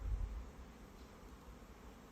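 A faint, steady buzz of honey bees droning around their hive at dawn during a sunflower nectar flow, with a low rumble at the start and no talking.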